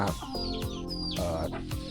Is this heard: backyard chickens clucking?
yes